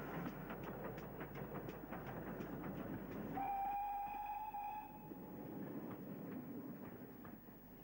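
A steam locomotive in BR livery rolls past with rhythmic wheel clatter, then sounds a clear sustained whistle for over a second before the rumbling carriages continue and fade slightly, with no talking.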